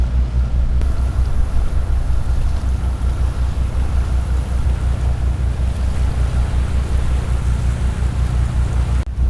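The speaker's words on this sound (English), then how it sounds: "That's a lot of rain." Heavy rain pours in a dense, unbroken roar on the River Shannon, loud and constant, with no voices.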